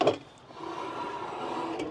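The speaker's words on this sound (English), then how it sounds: "Has a full pull-out drawer system, which stores all of my camping equipment." A pull-out drawer on the camping bed platform in the back of a Toyota Hilux Surf slides along its runners with a soft, steady rumbling scrape after a brief knock, close by and without talk.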